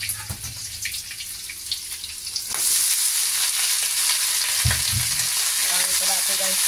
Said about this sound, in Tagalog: ilagay na natin ang ating gulay